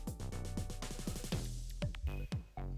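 Video game music from Shogi Wars Quiz Mode 2.0, a bright synthetic tune of quick plucked and bell-like notes in a bouncy rhythm, playing quietly on its own without talk.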